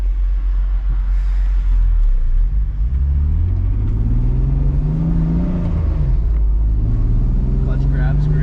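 A BMW E36 with a lightweight flywheel and new clutch drives along, its engine droning low and steady with a gentle rise in pitch as it accelerates, while people talk over it inside the car.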